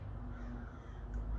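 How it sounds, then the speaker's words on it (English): Crows cawing outdoors, a faint, distant call heard near the end of a short stretch of steady low background noise, with no talk. "do you hear the crows?"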